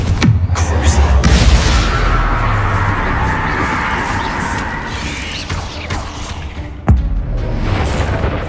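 Confringo fire spell blasting in Hogwarts Legacy, a loud booming explosion with crackling debris and whooshes, followed by a sharp second impact later, mid-distance and dense.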